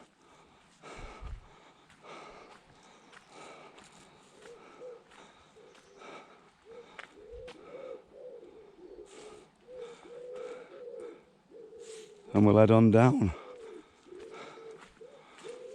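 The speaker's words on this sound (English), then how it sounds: "Birds singing." Birds sing in the early morning around a town near Rosslyn, soft cooing calls repeating steadily in the distance, with quiet talk, footsteps and one brief loud rush partway through.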